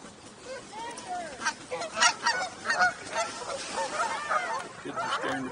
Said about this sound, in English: Kids are scaring the geese into the water.